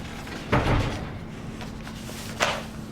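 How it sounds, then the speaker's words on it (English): A door is shut twice, with a soft thud roughly half a second in and a sharper knock near the end, both fairly close in a quiet room with a steady low hum. "Shut the door."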